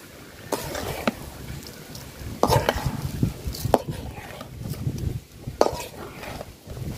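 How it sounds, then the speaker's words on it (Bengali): Rice, chicken legs, heads and liver, and garden vegetables are stirred and fried in a pot for khichuri, with repeated scraping clatters of a spoon against the pot over a low sizzle, close and moderately loud. "চাউলটা সুন্দর করে সবজির সাথে ভাজিয়ে নিব আমি"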